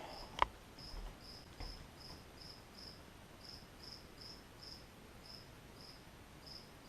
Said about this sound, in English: we got a cricket in the house somewhere.